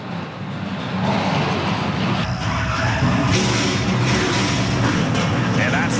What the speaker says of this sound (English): that's the sound we've been waiting to hear at Canadian Tire Motorsports Park as a strong field of NASCAR Pinty Series race cars come to life